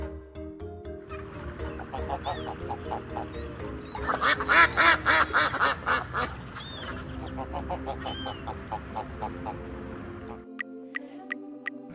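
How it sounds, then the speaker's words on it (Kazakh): A duck quacks repeatedly in a close, busy burst among clucking fowl, with a steady tonal backdrop and no speech. "Әрине, үйрек."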